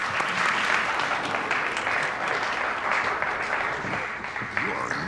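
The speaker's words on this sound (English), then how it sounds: "Let's hear a round of applause for Detective Murtaugh." An audience breaks into steady, dense applause after a detective is introduced in a classroom-style setting, the clapping loud and continuous throughout.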